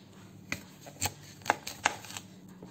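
Apples are sliced with a knife for apple charlotte, a handful of crisp, irregular cuts close by against quiet room tone.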